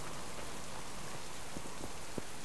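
Steady rain falling in the survival video game Subsistence, a dense continuous patter with a few louder drops, no voices.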